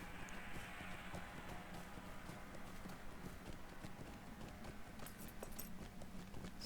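A horse's hooves clip-clopping in a video game, a steady rhythmic trot of muffled thuds under a constant hiss, very quiet and somewhat distant.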